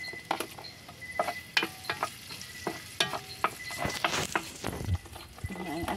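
Garlic and onion sautéing in a pan for adobong kangkong with pork, a steady sizzle broken by frequent scraping stirs and clicks of a utensil against the pan, close and moderately loud.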